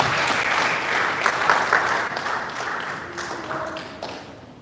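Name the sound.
audience applause as commissioner comes to stage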